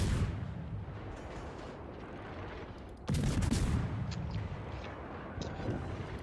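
Heavy warship gunfire in World of Warships, a deep rumbling broadside with a sharp, loud salvo in the middle and booming echoes trailing afterward.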